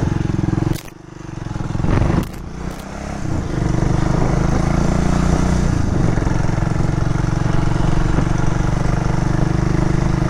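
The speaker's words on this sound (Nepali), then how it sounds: "कतिजनाले मेरो बाइकको आवाज सुनेर" A motorcycle engine idles steadily and close by, a continuous low throbbing rumble with a couple of brief dips and knocks early on, carrying on without anyone talking.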